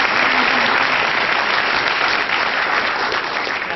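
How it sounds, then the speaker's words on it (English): An audience claps steadily and loudly at a lecture event, a dense, sustained round of applause with no voices over it. "So I think they deserve another round of applause."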